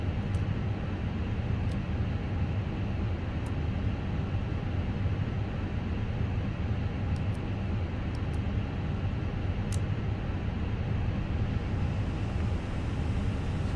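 Airbus A319 engines idling after start in the Fenix flight simulator, a steady broadband roar and hum heard from the cockpit at constant level throughout, with a few faint clicks and no talking.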